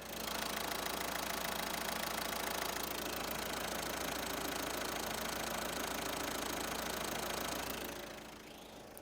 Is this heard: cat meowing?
no